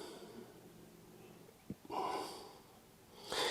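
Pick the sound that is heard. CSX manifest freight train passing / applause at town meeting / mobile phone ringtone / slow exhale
slow exhale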